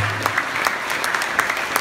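Audience at a gratitude event in Bulgaria applauding steadily, a dense wash of clapping with a few sharper individual claps standing out, close and lively throughout.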